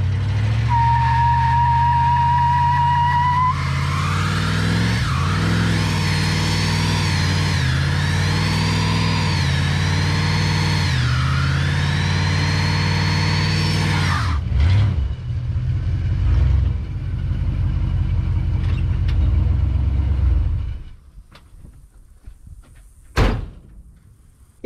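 An abandoned 1976 GMC Sierra truck rumbles and revs loudly off-road, its engine rising and falling through gear changes for about twenty seconds. It then cuts to quiet, and a sharp door slam follows near the end.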